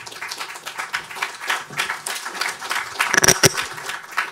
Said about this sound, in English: Well, thank you for your tepid applause.